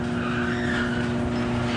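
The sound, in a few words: garage door opener raising the garage door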